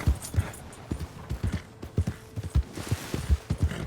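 Horse hooves clip-clop in a steady, rapid rhythm as a horse moves along in Red Dead Redemption 2, the beats fairly close and clear, with no talk over them.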